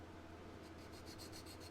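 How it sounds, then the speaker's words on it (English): Block sanding of a model car body, a soft steady rubbing rasp that turns into rhythmic back-and-forth strokes toward the end, quiet and close with no talk. "As you can see, we're just sanding away here."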